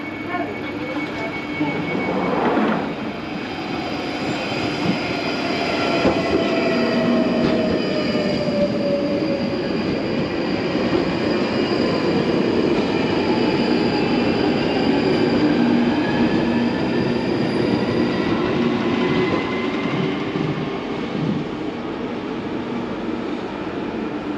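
A London Underground Northern Line train via Charing Cross runs at Colindale station, giving a steady loud rumble with whining, gliding tones and some wheel squeal throughout.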